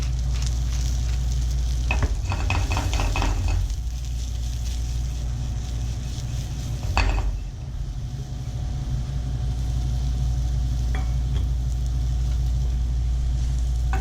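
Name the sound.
mushrooms sautéing in a pan with salt and pepper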